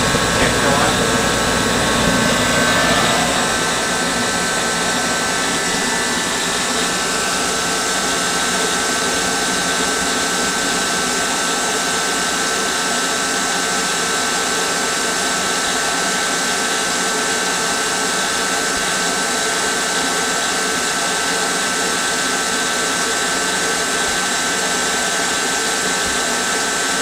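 A salamander forced-air heater kicked on and running, a steady loud broadband roar that holds constant throughout with no breaks.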